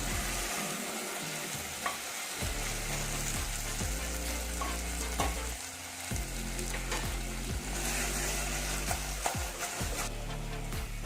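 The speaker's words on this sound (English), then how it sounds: "It's time I put in the potatoes and stir it again." Potatoes stirred into a frying rajma curry, a constant sizzle broken by repeated rhythmic spoon scrapes against the pan, close and clear with no talk.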